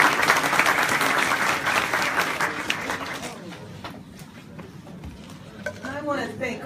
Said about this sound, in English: So please give all of these good folks a round of applause.